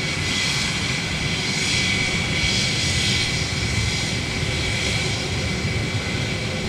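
Steady, loud roar of an airliner close up at London Gatwick, a continuous broadband engine rumble with a faint whine on top and slow swells in intensity, no voices over it.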